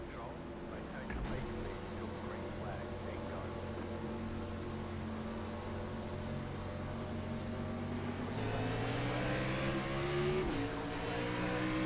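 A race car engine from a video game driving simulator holds a steady, faint drone, then rises in pitch near the end with a brief dip.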